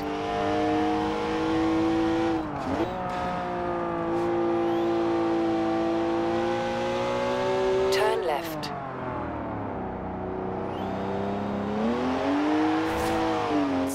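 A twin-turbo straight-six road car with 335 horsepower revs hard through its gears in Forza Horizon 4, a steady loud engine note climbing, dipping at shifts around three and eight seconds, then climbing again, with no talk over it.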